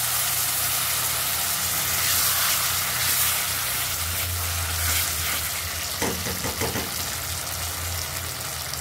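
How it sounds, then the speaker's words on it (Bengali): Banana flower paste going into hot oil, a loud steady sizzle and hiss that holds throughout, with a short burst of stirring scrapes partway through and no speech. "এখন আমি মোচাটা ঢেলে দেবো"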